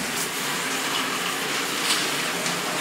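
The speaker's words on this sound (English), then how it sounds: "Cold shower done." A cold shower runs after a gym session, a steady loud hiss of spraying water that stays constant throughout with no voices.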